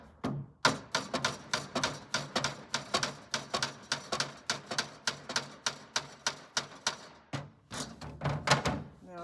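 A hammer taps a drawer slide into place, a rapid, steady run of sharp, evenly spaced knocks close by that stops briefly, then resumes in a few quick strikes.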